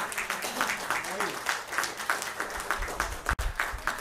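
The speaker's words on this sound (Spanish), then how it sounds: "Vamos a darle un aplauso a Dios por María Tonti." A church congregation applauds during a Spanish-language sermon, a steady crowd of hands clapping in a fairly even rhythm, close and fairly loud throughout, with voices mixed into the clapping.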